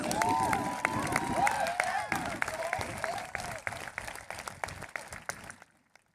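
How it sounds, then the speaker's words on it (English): Applause at the Highland High School 2023 graduation ceremony, welcoming a retiring educator: a large crowd claps densely and steadily with some cheering, then thins out and fades to silence near the end. "Big round of applause for Mr. Max Jules."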